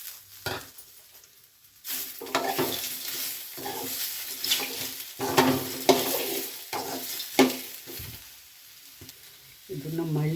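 Tomatoes frying and being stirred in a pan for village-style bassaru, a Mandya home-kitchen dish, with bursts of sizzling and scraping strokes of a spoon at moderate volume close by.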